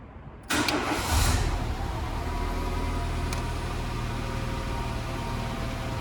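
A high-mileage BMW car engine starts with a sharp rise and then settles into a steady, close, continuous idle rumble with no talking.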